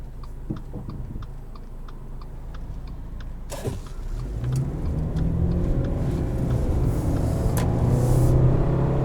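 Faint ticking at first, then a 2021 Subaru Crosstrek Sport's 2.5 engine rises in a steady, building roar as the vehicle accelerates, growing louder toward the end.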